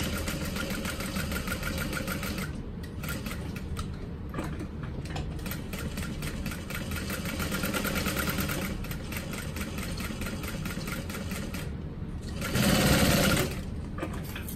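A sewing machine stitches along the curve of a crossbody bag, a close, rapid mechanical whir that runs almost without pause, with brief stops and a louder burst near the end.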